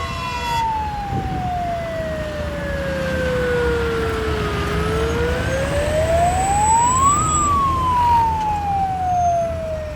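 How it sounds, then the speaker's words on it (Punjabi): A loud fire engine siren wails as it arrives at a burning wheat field, its pitch sliding slowly down and back up over a steady rumble of traffic noise. "ਹੁਣ ਆਈ ਆ ਗੱਡੀ ਫਾਇਰ ਬ੍ਰਿਗੇਡ ਦੀ"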